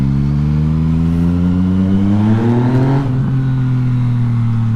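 Naked motorcycle engine, a Yamaha MT-09 or Kawasaki Z900, revving up loud and close with rising harmonic pitch, briefly dipping near the end before climbing steadily again, no voices.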